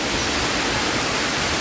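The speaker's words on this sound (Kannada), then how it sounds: "ನದಿ ಹರಿತಾ ಇರೋದು ತುಂಬ ಚೆನ್ನಾಗಿ ಕಾಣಿಸ್ತಾ ಇದೆ" A clear, turquoise river flows over stones through forest in the Uttarakhand wilderness near Madhyamaheshwar, a steady broadband rush of moving water that stays even and close throughout, with no voices.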